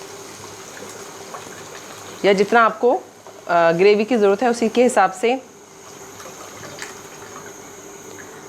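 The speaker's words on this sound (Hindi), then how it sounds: "2 कप के करीब पानी ऐड कर दूंगी," Water poured into beef kofta curry masala in a cooking pot, a steady soft gushing pour running throughout, partly under someone speaking in the middle.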